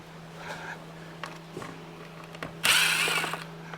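Ratchet clicking while removing grille screws on a 2019 Toyota RAV4, a few faint ticks early on, then a louder, denser burst of ratcheting near the end over a steady low hum.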